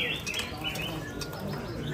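Birds at a village bird kiosk chirp and tweet in quick, bright calls over a steady, busy background din.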